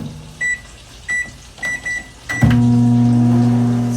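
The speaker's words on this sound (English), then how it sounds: "we're going to put it in the microwave for about 17 minutes" A microwave oven beeps five times as its keypad is pressed, then starts up with a loud, steady hum that runs on evenly, no voices present.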